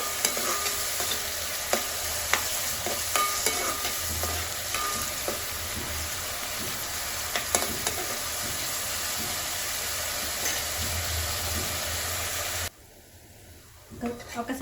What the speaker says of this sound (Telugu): ఈ ఉల్లిగడ్డలు పచ్చిమిర్చి కూడా మంచిగా ఆయిల్లో మగ్గాలి